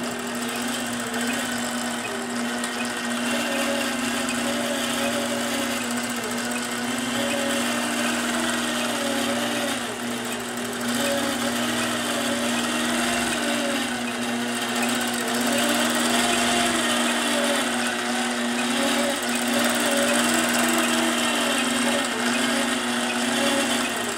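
A sewing machine runs continuously while stitching a nested spirograph design, giving a steady mechanical hum with a faint repeating whir that holds the same level throughout, close and alone.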